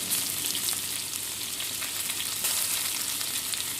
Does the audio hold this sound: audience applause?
no